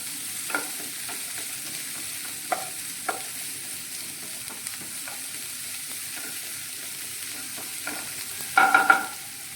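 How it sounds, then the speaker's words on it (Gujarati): Finely chopped onion sautés in a pan under a faint sizzle, punctuated by several sharp spoon scrapes and stirring clinks, with a louder burst of stirring near the end. "હવે તેમાં એક એક ડુંગળી ઉમેરી દઈશું અહીંયા મેં એક ડુંગળી ઝીણી ઝીણી સુધારી લીધી છે તેને પણ આપણે થોડીક વાર સાતળી લઈશું"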